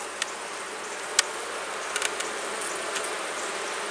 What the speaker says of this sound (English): These bees are starting to get a little loud